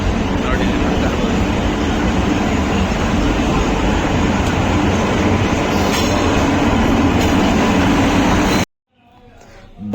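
A train pulls into Nizamuddin railway station in Delhi with a loud, continuous rumble and wheel clatter that runs steadily for about eight and a half seconds, then cuts off abruptly.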